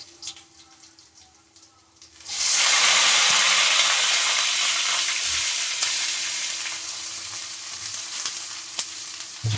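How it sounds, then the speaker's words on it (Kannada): Brinjal dropped into hot oil sets off a sudden loud sizzle about two seconds in, then a steady close frying hiss that eases slightly, with faint clinks under it. "ಚೆನ್ನಾಗಿ ಎಣ್ಣೆಲಿ ಫ್ರೈ ಹಾಕ್ಬಿಡ್ತೀನಿ ಬದನೆಕಾಯಿ ಚೆನ್ನಾಗಿರುತ್ತೆ"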